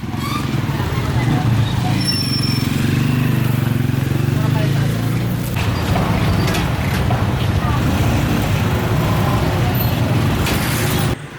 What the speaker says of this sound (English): what I was recording was an army truck with about 5 or 6 armed guards